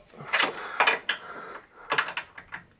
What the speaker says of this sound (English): Start off by releasing this little lock nut here, and so just go ahead and use like a little wrench.